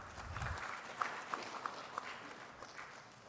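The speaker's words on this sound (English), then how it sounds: "Please welcome them with a round of applause." Light, sparse clapping from a conference audience welcoming panelists at a maternal and newborn health event, soft and thin, with a few sharper claps standing out and fading toward the end.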